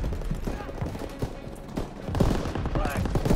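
Dense battlefield gunfire in the World War II shooter Call of Duty WWII, with rifles and machine guns crackling continuously under shouting soldiers' voices.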